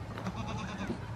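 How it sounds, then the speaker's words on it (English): A farm goat gives a short, close bleat with a wavering tone, heard on its own. "These are our goats."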